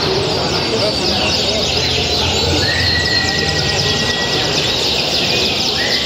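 Many canaries sing at once at a Central Java bird song competition, a dense, continuous wash of trills and whistles alongside someone speaking and general crowd noise.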